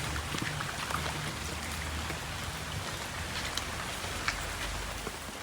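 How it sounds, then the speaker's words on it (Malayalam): Steady rain falling on a flooded home courtyard after a night of nonstop downpour, a soft continuous patter of drops with a few slightly louder splashes, no voices. "മഴ പെയ്ത് മുഴുവൻ വെള്ളമാണ് കേട്ടോ മുറ്റത്ത്."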